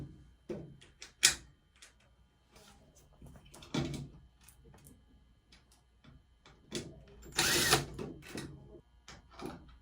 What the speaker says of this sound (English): to screw everything back in